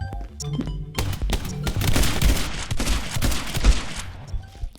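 Gunfire in the video game My Friend Pedro comes as dense, rapid bursts of shots and impacts. The volleys are loud and close and continue almost without pause.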